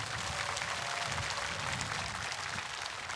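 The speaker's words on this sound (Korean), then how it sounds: "the people gathered here conveyed their heart through their warm clapping." An audience at a Buddhist memorial ceremony for world peace gives steady, warm applause for visiting diplomats, a dense even wash of clapping filling the whole stretch.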